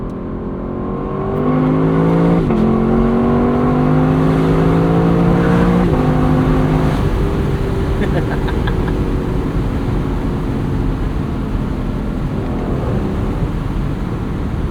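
A 2024 Lexus LC 500 with its 471 hp V8 drives top-down at sunset, the engine droning steadily then rising through paddle-shifted gear changes with audible shift breaks, loud and close throughout with no talking.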